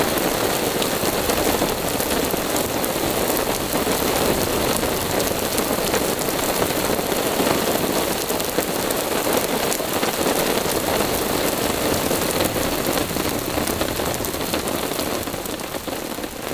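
Heavy storm rain beating on a tarp overhead: a loud, dense, unbroken patter that stays steady throughout, close by, with no voices.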